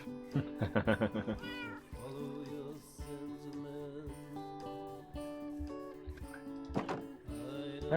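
A cat meows repeatedly in the video game Minecraft, several clear harmonic cries coming in bursts, loudest near the start and again toward the end, heard close with no talk.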